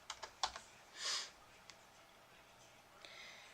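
A few scattered keystrokes on a computer keyboard, close but faint, with a short breathy noise in between and quiet gaps.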